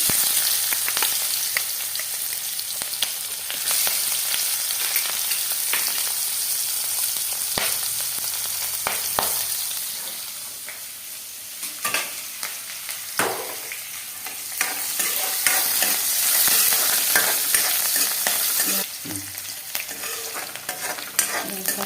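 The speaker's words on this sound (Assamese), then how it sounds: "এয়া মই কাটি থৈ দিয়া পিঁয়াজ ঢালিব ওলাইছোঁ।" Chopped onions fry in a pan, producing a close, continuous sizzle, louder in spells, with repeated spoon scrapes and taps as they are stirred.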